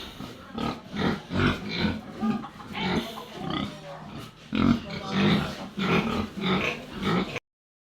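Pigs being weighed break into loud squeals and grunts, a dense, agitated chorus of bursts up close with a person's voice mixed in.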